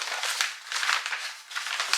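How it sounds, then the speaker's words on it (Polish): Crinkling, rustling wrapping paper handled up close while Christmas presents are wrapped, a continuous crackly rustle in repeated bursts with no talking. "bardzo ładny papier"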